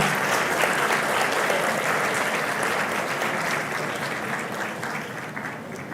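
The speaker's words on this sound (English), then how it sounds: "Let's have a round of applause, ladies and gentlemen." Sustained audience applause fills a large hall at a global digital public infrastructure summit, a dense, even wash of many hands clapping that holds steady and then tapers slightly toward the end.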